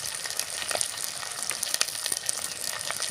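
Atukula (flattened rice) mixture cooking in a pan, a steady close sizzle and hiss with faint crackles and occasional stirring scrapes, continuous at moderate level with no speech.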